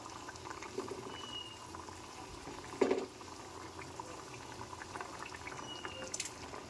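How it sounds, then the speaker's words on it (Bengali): Cauliflower kofta curry simmers in a pan with a soft, steady boiling hiss and faint bubbling, plus a brief louder clatter near the middle; no voices. "তো এখানে ফুটছে"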